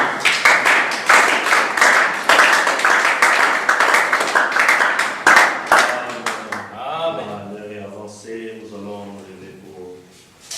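A church congregation claps together in a dense, lively burst for about six seconds, praising the Lord, before the applause fades and a voice carries on alone.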